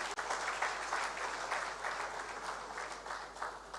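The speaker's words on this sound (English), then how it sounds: "Give them another round of applause." Sustained audience applause at an international trade seminar, a dense steady wash of clapping from a large crowd that holds at an even level for several seconds.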